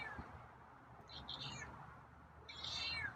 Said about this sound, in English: there are the meows